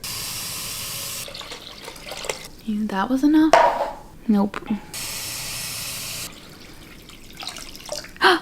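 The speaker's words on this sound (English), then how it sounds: "So now I need to add more water." Tap water runs steadily into a pot at a kitchen sink, stopping and starting a few times, while a person speaks briefly between the pours.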